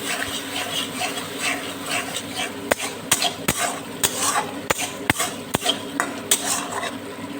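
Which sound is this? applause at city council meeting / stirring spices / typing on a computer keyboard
stirring spices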